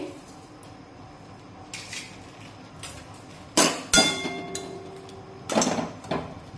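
Dried shrimp (sukat) dry-roasting in a hot kadhai over a medium gas flame, with scattered light clinks and rattles plus a few louder bursts of scraping and tossing over a quiet background.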